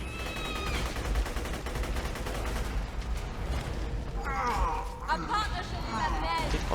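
Grenade blasts and gunfire from a Borderlands 2 firefight, a dense continuous barrage with scattered bursts, mixed under a voice talking.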